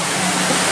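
Water spilling off the top of the volcano at Volcano Bay, Universal Orlando's water park, heard as a brief, steady broadband rush with no clear breaks.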